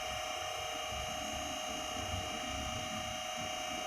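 An electric motor driven by an LS iG5A variable speed drive runs at jog speed, producing a constant high-pitched electrical whine over a low hum that stays even throughout.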